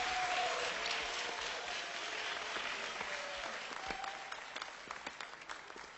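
Audience applause for contestants at a dance contest in a restaurant, a broad continuous wash of clapping that slowly thins toward scattered individual claps at the end.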